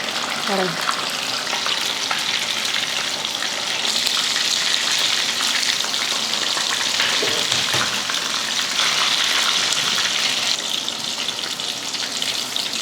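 Food crackles and hisses steadily as it fries in hot oil until crisp, a dense, close sizzle that carries on without pause and swells slightly in places.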